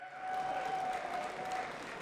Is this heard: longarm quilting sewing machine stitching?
no